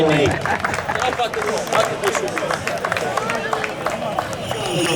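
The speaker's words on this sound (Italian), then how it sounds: "Un applauso per la ragazza che ha fatto" Crowd applause at a horse race meeting for a young female rider, broad sustained clapping mixed with crowd murmur and voices, steady and moderately loud throughout.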